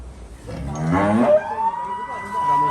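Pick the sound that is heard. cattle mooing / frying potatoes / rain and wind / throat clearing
cattle mooing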